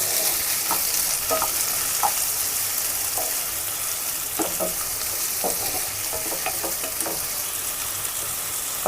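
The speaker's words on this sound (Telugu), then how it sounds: "ఆనియన్స్ వేసుకొని బాగా కలుపుకోవాలి" Sliced onions frying in hot oil in a pan for a spicy baby corn and mushroom masala, with a steady bright sizzle and scattered scraping clicks from stirring, close and unbroken.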